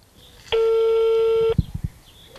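A single loud telephone dialing tone holds steady for about a second, followed by a few short clicks and faint handling noise.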